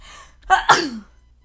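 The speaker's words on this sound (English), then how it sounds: "Achoo." One close, loud human sneeze, a quick sharp intake followed by an explosive burst, with quiet around it.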